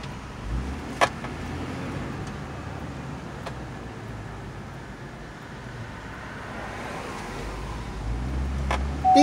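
Steady road and engine rumble from inside a moving car, continuous and even, with a few faint clicks and a slight swell at the end; no one talks.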